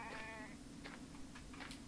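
A goat bleats in the video game The Infected with one quavering, drawn-out call, followed by a few short, faint bleats, all quiet under a low steady background hum.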